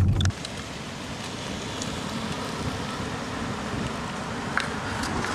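A Tesla electric car on a test drive, heard from inside as a low, steady rolling rumble of tires and road noise with faint wind, no engine note, after a short louder bump at the start.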